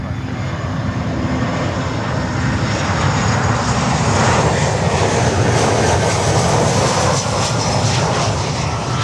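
A cargo airliner lands on runway 9 at Miami airport, heard as a loud, continuous broadband jet roar that swells slightly as it passes near and fills the whole stretch.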